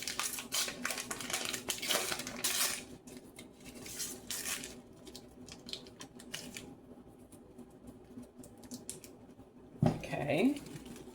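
A stick of butter goes into a saucepan for peanut butter fudge, with clattery metal-on-pan clinks and scrapes up close, a quieter stretch in the middle, then a sharper clunk and rattle near the end.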